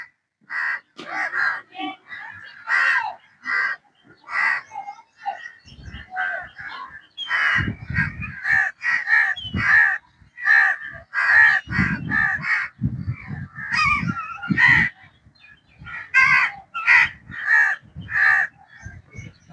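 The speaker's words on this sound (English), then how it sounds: "Sounds of birds singing" Crows caw repeatedly in loud, harsh bursts with short pauses, several calls overlapping as if from more than one bird.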